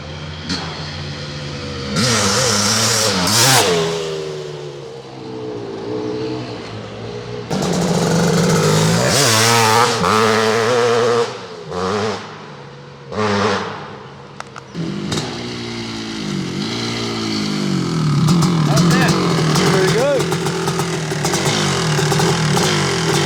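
A Kawasaki KX500 two-stroke dirt bike, a KPR Racing works build, revs hard and loud up close, engine note rising and falling in repeated bursts with brief lulls as the rear wheel spins and leaves ruts.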